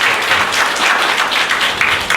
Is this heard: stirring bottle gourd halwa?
no